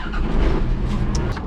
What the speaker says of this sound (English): Now I need to get the tractor started.